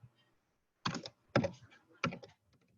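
Typing on a computer keyboard while working in graphic design software, with three short bursts of key clicks separated by brief pauses against a quiet background.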